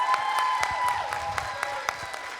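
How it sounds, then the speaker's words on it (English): Audience at a high school concert applauding, a short burst of fairly sparse, distinct hand claps heard at moderate distance. "So another round of applause for our amazing students."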